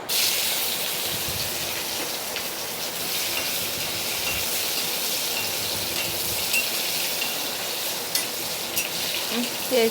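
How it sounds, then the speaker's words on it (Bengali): Onions frying in hot oil in a wok give a steady, dense sizzle that holds close and even for the whole stretch, with no voices. "এখন পেঁয়াজগুলো দিয়ে দেবো কড়াইতে"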